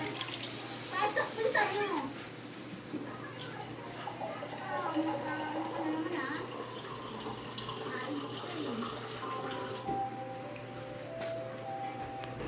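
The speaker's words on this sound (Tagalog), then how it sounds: "Maglagay na pala tayo ng 2 cups ng tubig or pure water." Water is poured into a pot while cooking chicken tinola soup, a splashing gush that settles into a softer, steady trickling, with a low background hum throughout.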